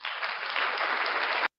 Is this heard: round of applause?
yes